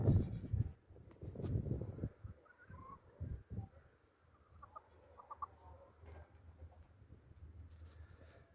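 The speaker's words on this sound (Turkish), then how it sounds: "Hint tavuklarım ve horuzum da burada" Turkeys and a rooster cluck and call in short bursts at close range, with scattered bird chirps and faint scratching noises over quiet outdoor background.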